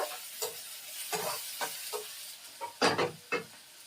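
Soft, repeated scraping strokes of a spoon stirring thick ginger garlic paste in a pan, quiet and close, with a faint sizzle.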